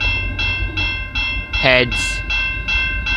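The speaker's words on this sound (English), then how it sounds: "We got Via 72 departing the London station." VIA Rail train 72 pulls out of London, Ontario station, its loud rhythmic clickety-clack of wheels over rail joints rolling past nearby, a short horn-like tone cutting through midway while someone speaks briefly.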